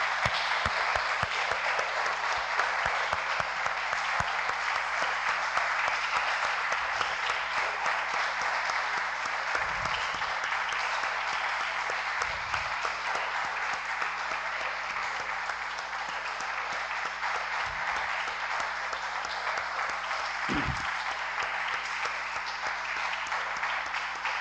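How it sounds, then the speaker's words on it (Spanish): A church congregation applauds for a long stretch, a dense, even wash of many hands clapping at steady volume, with a few low thumps scattered through it. "Damos un aplauso"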